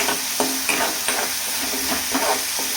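Dal fries in hot oil with green chillies and garlic for a spicy fenugreek dish, sizzling steadily up close. A spoon stirs it, clicking and scraping against the pan at a few even points.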